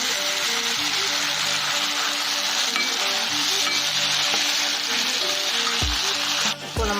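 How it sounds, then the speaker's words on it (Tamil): Onion and tomato sauté in a pan for vegetable sambar, giving a loud, steady sizzle with occasional stirring scrapes. Soft tonal background sound runs underneath throughout. "நான் தக்காளி ஆட் பண்ணி நல்லா வதக்கிக்கிறேன்."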